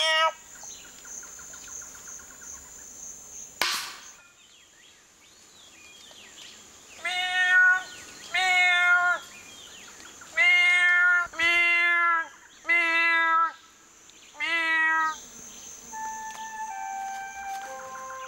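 A human voice imitates the cry of a wounded duiker antelope: a series of short, nasal, bleating calls, each repeated in quick bursts, with a high steady whine underneath.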